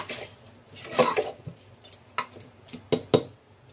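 Four small potatoes dropped into a pressure cooker in a home kitchen, a handful of sharp clunks and metallic knocks against the pot with soft handling noise between, close and fairly loud, no talk.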